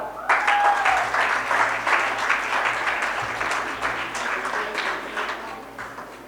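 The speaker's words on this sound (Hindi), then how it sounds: "तालियां कम बज रही हैं, इधर से कम बज रही हैं तालियां" An audience claps throughout a prize announcement at a Sanskrit youth festival closing ceremony, dense sustained applause swelling early then slowly thinning, with a faint voice briefly underneath.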